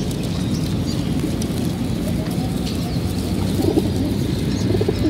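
Racing pigeons coo softly and steadily in their loft before release, a low continuous murmur of many birds close by with no talk over it.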